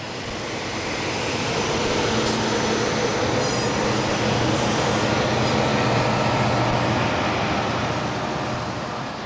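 Santa Fe helper locomotives running eastbound on the north track at Cajon Pass in the 1960s, a loud continuous rumbling drone that swells and holds steady, heard alone.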